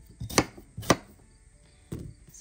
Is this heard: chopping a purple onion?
yes